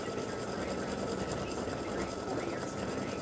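An embroidery machine stitches freestanding lace for Christmas tree earrings, giving a steady, continuous whirring hum with fast mechanical chatter, close and unbroken throughout.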